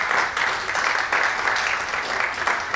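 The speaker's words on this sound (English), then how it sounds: "First of all, a big round of applause for all of you who stayed to the very" Applause from the audience at a Web3 investor day closing session, dense steady clapping throughout, moderately loud and fairly close, with no talk over it.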